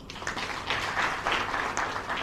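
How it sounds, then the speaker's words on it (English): A crowd applauds at an International Youth Day event in Freetown, Sierra Leone, a moderate rolling round of clapping that lasts throughout, with no talk over it. "let's have a round of applause for all of us"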